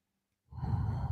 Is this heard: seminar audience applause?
no